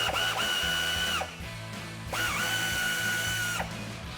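Power tool spinning out bolts from a 2019+ RAM 1500 front bumper, two whining bursts of the motor with rising and falling pitch, close and loud, separated by a short pause.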